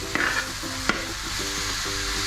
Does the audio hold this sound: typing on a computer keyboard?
no